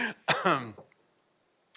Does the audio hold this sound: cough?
yes